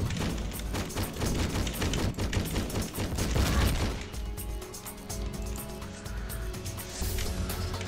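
Dense, chaotic gunfire fills the first-person shooter Hedon, a continuous rattling fusillade mixed with crashes and impacts, loud and sustained with no speech.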